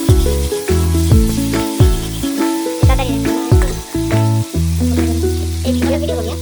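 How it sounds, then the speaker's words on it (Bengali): Chicken pieces for chicken kosha sizzle loudly in a hot pan, with repeated bursts of crackling frying and clanking stirring strokes in a steady rhythm, the sizzle persisting throughout. "মাংসটা ভালো করে কষতে থাকবো।"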